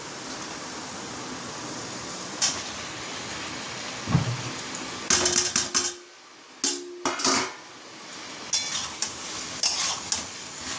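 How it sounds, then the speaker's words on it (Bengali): Fried vegetables tipped into a pan of cooked spice masala and stirred, giving scattered metallic scrapes and clatters of a spoon against the pan with a faint sizzle, several bursts close by, with no talk. "এবার এই যে ভেজে রাখা সবজিগুলো সব এর মধ্যে দিয়ে দেবো।"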